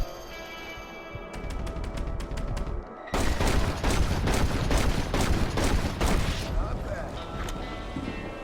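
Rapid revolver shots crack out in quick succession during a duel in Red Dead Redemption, a sparse volley first, then a dense loud burst of fire, with talk faintly underneath.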